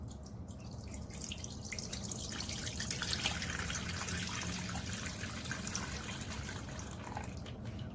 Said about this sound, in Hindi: दूध डाल लेंगे हम 1 लीटर।